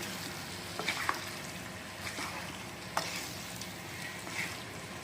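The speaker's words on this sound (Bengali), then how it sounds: "আলুগুলো একবার সব কিছুর সাথে মিশিয়ে নেবো" Chicken curry sizzles steadily in a pan as fried potatoes are stirred in, with a constant crackling hiss and a few sharp clinks of a spoon against the pot.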